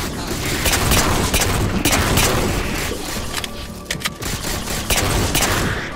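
Rapid Magnum pistol gunfire in Halo 4, loud bursts of overlapping shots and booms in a busy firefight, with a faint voice underneath.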